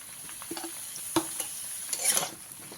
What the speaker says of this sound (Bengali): বেগুনটা দিয়ে আবারও চার থেকে পাঁচ মিনিট ভালো করে ভেজে নেব